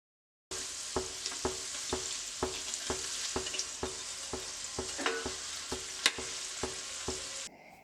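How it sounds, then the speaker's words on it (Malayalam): Creamy chicken rolls deep frying in hot oil in a cheenachatti wok, a steady close sizzle with a regular series of soft tapping knocks throughout, no voices. "ഒരു ചീനച്ചട്ടിയിൽ അത്യാവശ്യം ഓയിൽ ഒഴിച്ചിട്ട് നന്നായിട്ട് ചൂടാക്കി എടുത്തു കഴിഞ്ഞാൽ നമ്മുടെ സ്നാക്ക് ഇട്ട് കൊടുക്കുക."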